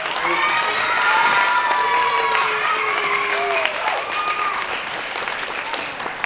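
Audience applause at a county announcement event, a dense, steady wash of clapping from a large crowd that stays loud throughout and fades slightly toward the end, with some cheering mixed in.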